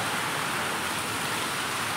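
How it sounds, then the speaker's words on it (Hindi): A heavy downpour on a rainy day in Salaya, heard as an even, moderately loud wash of rain noise with no other clear sounds. "बहुत बारिश है यहाँ पर देख सकते हो"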